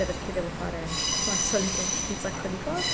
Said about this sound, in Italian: E sentite il treno in sottofondo che fischia,